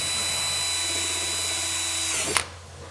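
A power drill with a sharp bit whines steadily at high speed for about two seconds drilling into a Dacia Duster II car bumper, then stops with a brief clunk as the bit breaks through.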